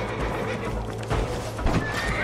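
Horses neigh and whinny in the Red Dead Redemption video game, a couple of loud close calls standing out over steady hoof clip-clop and a low rumbling game background.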